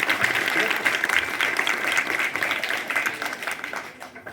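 Audience applause at a school twinning event welcoming guests, dense sustained clapping from a crowd that continues throughout before tapering slightly at the end.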